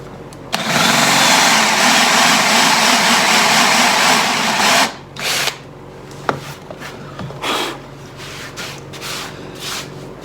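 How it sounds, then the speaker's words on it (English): A 3/4 inch Forstner bit drills a shallow hole in wood. A loud, steady whine of cutting runs for about four seconds, then stops, followed by scattered knocks and rubbing sounds as the work is handled. "I'm taking a 3/4 inch Forstner bit, and I'm just going to drill a little hole here about the depth of the head"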